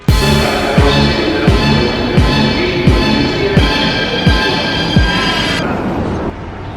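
A metro train in Greece, close and loud, clatters over rail joints in a steady rhythm of heavy thuds about every three-quarters of a second, then the roar drops away as it passes.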